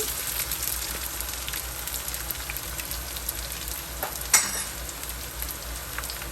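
Shallot frying in oil for Guyanese-style pepper shrimp fried rice, a steady close sizzle with an even crackling texture and a single sharp utensil knock partway through, no talking.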